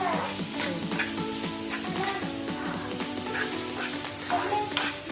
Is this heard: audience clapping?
no